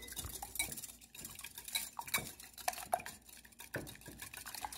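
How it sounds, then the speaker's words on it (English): Batter with milk, for fried chicken, is stirred in a bowl: faint, busy scraping and clinking of utensil against the dish, continuous and irregular throughout. "we are going to give this a properly mix until everything is properly blended"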